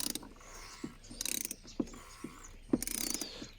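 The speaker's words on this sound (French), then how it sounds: "On entend bien le joint qui s'écrase." Wrench tightening the oil drain plug on a BMW N47 diesel engine as the seal crushes into its groove, with repeated ratchet clicks in short bursts and a few sharper creaking knocks, close and fairly quiet.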